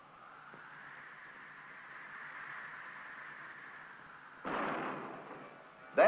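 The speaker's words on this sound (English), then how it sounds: "With the spacecraft high enough for safety, exploding bolts fire, and the escape tower pulls free." Exploding bolts fire on a 1962 NASA spacecraft as the escape tower pulls free: a sustained roaring rush runs throughout, broken by a louder burst near the end and a sharp final crack.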